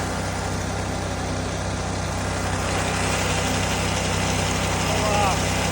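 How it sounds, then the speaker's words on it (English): A grain auger's engine runs on a farm at sunset, a steady, loud, low droning rumble that holds unchanged throughout. "The auger fired right up though."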